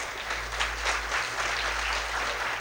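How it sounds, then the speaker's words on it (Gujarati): Sustained audience applause fills the hall at a steady, fairly even level, a dense wash of many hands clapping together with no talk over it, continuing without a break. "એને યશ જો તાળી પડી"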